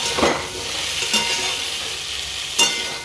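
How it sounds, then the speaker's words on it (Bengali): Green chili and panch phoron (five-spice) frying in hot oil make a loud, continuous sizzle, broken by three brief scraping stir strokes. "তেলটা দেওয়ার পর আর একটা কাঁচা লঙ্কা দিয়ে দিয়েছি আর সাথে পাঁচফোড়ন দিয়েছি। এবার এটাকে ভালোভাবে ভেজে নেব।"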